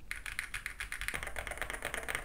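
Keystrokes on an EPOMAKER Tide 75 low-profile mechanical keyboard, rapid close clicky taps in a steady typing rhythm, fairly quiet, with no talking.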